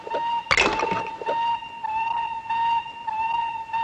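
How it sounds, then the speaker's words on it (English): A mine alarm whistle sounds in a western drama, a steady sustained tonal blast that pulses on and off, with a sharp clatter near the start. "It's the alarm whistle from the mine."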